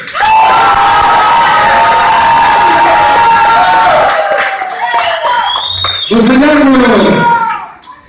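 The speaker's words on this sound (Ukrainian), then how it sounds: "Оплески!" A large crowd applauds and cheers at a men's costume contest during a festival, a loud sustained roar of clapping and shouting with whistles, briefly dipping before swelling again and fading at the end.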